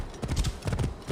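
A horse gallops in Assassin's Creed Origins at night, its hooves thudding in a quick, close, continuous rhythm over a brief stretch.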